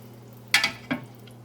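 A spoon scrapes twice through beef juices and gravy in a roast beef pan, each stroke a short, close clatter over a faint, quiet simmer.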